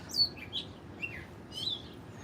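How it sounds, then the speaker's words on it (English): Several birds chirp and tweet in short bursts, moderately close, over a steady low outdoor hum, in the gardens of the National Cathedral, Washington. "Some birds having a good old time."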